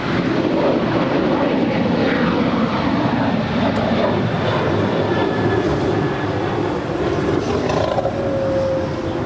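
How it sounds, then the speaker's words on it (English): A United Airlines Boeing 737-800 jet departs LAX, a steady loud broadband roar holding throughout with a faint rising whine near the end, no voices. "Next departure, United Airlines Flight 1219 heading to Kahului. It's a 737-800."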